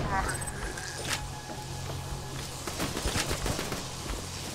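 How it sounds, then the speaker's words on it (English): Rapid gunfire rattles around the player in the video game Borderlands 2, with bursts of shots and mechanical clicks over a busy game soundscape, close and fairly loud. "Where am I getting shot from?"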